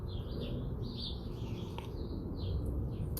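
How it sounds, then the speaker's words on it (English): Faint chirping bird calls repeat over a steady low background rumble, distant and soft throughout. "you guys can hear my birds"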